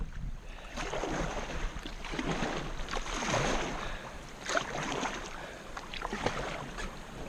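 A kayak on Shoal Creek is paddled through a tangle of sticks. Irregular splashes, scrapes and knocks sound close to the microphone, with wind noise behind them.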